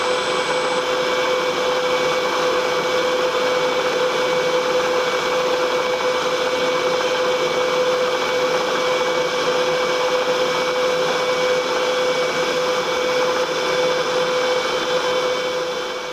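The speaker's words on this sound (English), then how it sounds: "we're going to run a pilot drill down" A pilot drill runs continuously for the whole stretch, a loud, steady machine whine holding a constant pitch with no pauses and no talking over it.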